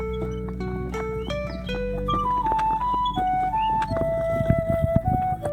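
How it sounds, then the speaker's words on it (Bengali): Horse-cart hooves clip-clop near the end beneath a loud, looping melodic jingle, with traffic noise in the background, on a Padma river char. "আপনারা দেখতে পাচ্ছেন একটি ঘোড়ার গাড়ি আসছে"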